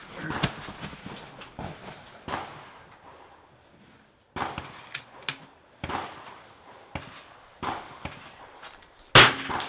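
Rifle bullets striking steel targets at an NRL22 rimfire match, a series of sharp metallic clangs spaced irregularly over outdoor range ambience, with one loud close ring near the end.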